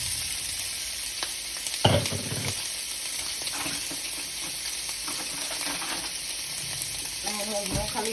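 Sausage sizzles and crackles steadily in hot oil in a pan, a close, constant frying hiss with a brief clatter as pieces go in and occasional stirring.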